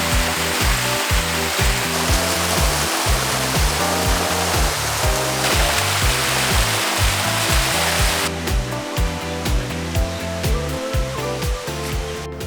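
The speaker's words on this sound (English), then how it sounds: "so we've made it to the top of the waterfalls" A constant loud rush of falling water from the Bua Thong Sticky Waterfalls near Chiang Mai, Thailand, fills the clip, with a rhythmic pulsing thump running underneath.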